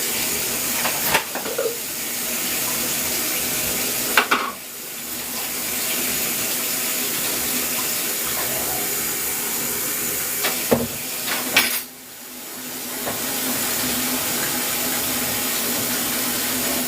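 Warm tap water runs steadily into a plastic jug with a broad, continuous hiss, broken twice by brief clunks and pauses as the flow shifts, with no talk.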